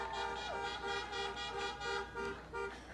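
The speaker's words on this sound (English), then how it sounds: "You got that horn honking good." Car horn honking in repeated short toots at an outdoor campaign rally in Miami, a steady pulsing series of blasts over crowd ambience, moderately loud and slightly distant.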